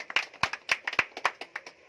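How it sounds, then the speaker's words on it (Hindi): A few people clap at a Sunday seminar to welcome a speaker. The claps are sparse, irregular and close to the microphone, and the burst is brief, lasting under two seconds with no voices over it. "मिस्टर सुनील कुमार सर के लिए जोरदार तालियां दोस्तों"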